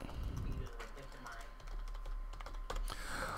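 Rapid clicking keystrokes on a computer keyboard, close and fairly faint, tapping in quick uneven bursts under a low steady hum.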